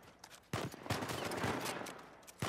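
Sniper rifle shots in the game Uncharted 4, a sharp crack followed by sustained rumbling fire, then another sharp report at the end, loud and close.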